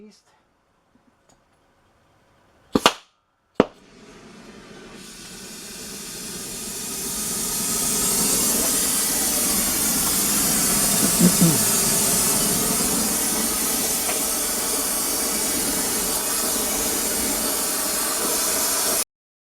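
Gas torch roaring with a steady broad hiss as it preheats metal on a welding table in a shop, lit after two sharp clicks and building to a loud continuous rush.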